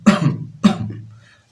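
A single person coughs in two sharp, close bursts, each fading quickly, in a quiet room.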